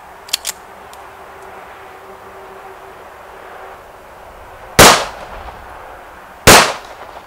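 A SIG 1911 pistol fires at a target seven yards away, with two sharp loud shots a couple of seconds apart near the end, preceded by faint small clicks and quiet outdoor background.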